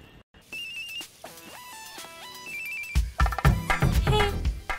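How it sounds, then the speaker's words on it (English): A mobile phone rings with an incoming call, a repeating synthetic tone melody that starts after a brief dropout and continues under swelling dramatic film music, fairly loud and close. "Hey, I'm getting a call from that number."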